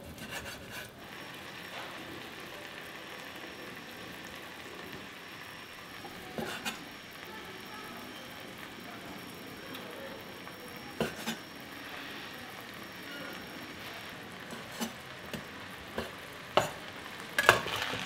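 Octopus braising in a sticky sauce for a Korean lunchbox dish, giving a soft, steady sizzle and bubbling close by, with occasional stirring knocks and scrapes of a utensil growing busier toward the end.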